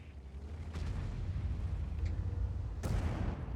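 Tank cannon fire from an IS-2 in World of Tanks, two sharp booming reports a couple of seconds apart, the second louder and closer, set against a low rumbling battlefield background.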